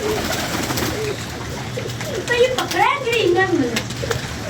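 Pigeons coo in throaty, wavering bursts, loudest midway, over a busy background with muffled voices.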